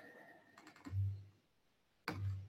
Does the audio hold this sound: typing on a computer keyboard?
yes